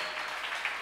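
A crowd applauds for Jesus in a short burst, many hands clapping in a dense, steady patter that sounds close and continuous.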